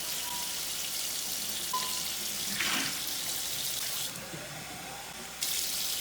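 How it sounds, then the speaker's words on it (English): Tap water runs into and splashes around a hydrogen water generator bottle being rinsed, a steady close hiss with a brief gurgling shift midway and a short dip near the end. "First, a little rinse to get all the shipping dust out."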